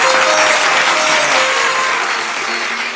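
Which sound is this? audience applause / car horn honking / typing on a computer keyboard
audience applause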